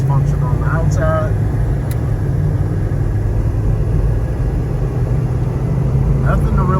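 Inside a 1988 Chevy Monte Carlo SS T-Top on the move with windows up and the AC running, a constant low road and engine rumble fills the cabin while a voice talks over it.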